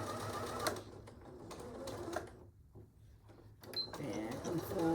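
A sewing machine back stitches on an artist case in short bursts, forward and reverse, with pauses and handling clatter between runs, loud and close.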